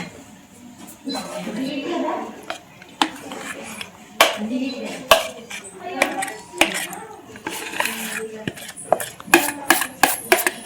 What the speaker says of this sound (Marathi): आपण आता केक टीनमध्ये टाकूया.